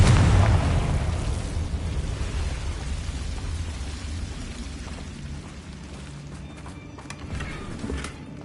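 A Confringo fire spell explosion in the video game Hogwarts Legacy, a loud low boom at the start that rolls off into a long fading rumble with faint crackles afterward.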